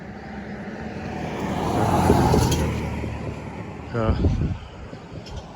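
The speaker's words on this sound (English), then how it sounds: "So we're going to see if this truck's going to stop for us." A truck passes on a town street in Cheshire, with broadband road noise swelling to a peak and fading, followed by a brief engine rumble nearby; a person speaks briefly.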